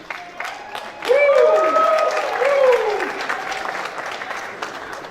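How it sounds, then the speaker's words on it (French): An audience at the Haitian Music Awards ceremony applauds steadily throughout, while a voice over the sound system talks and calls out above the clapping and cheering. "applaudissez très fort s'il vous plaît"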